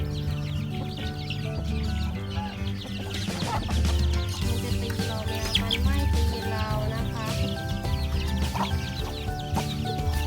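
Chickens cluck in a home vegetable garden with mayongchid and mango trees nearby, their calls mixed into a dense, busy backdrop of layered sound that stays steady and fairly loud throughout.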